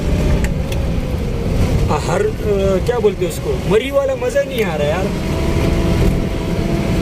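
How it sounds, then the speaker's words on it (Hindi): A car engine hums steadily in first gear on the driver's first time behind the wheel, a continuous low drone from inside the cabin running under two people chatting throughout. "आपको आवाज़ आ रहा होगा गाड़ी का शोर पहले गियर में"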